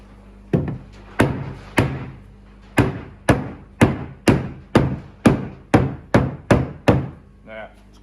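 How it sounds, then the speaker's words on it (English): A rubber mallet strikes aqua-coated wire mesh of a 24-inch lobster pot about a dozen times, each blow a sharp, close thud with a brief ringing tail, landing in a fairly even rhythm after a few spaced opening hits. "Use a rubber mallet so it doesn't damage the aqua mesh coating."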